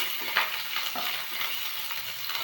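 Chopped chilli and bay leaves fry in hot oil with a dense, steady sizzle, close and loud, with a few sharp crackles and pops and no talking.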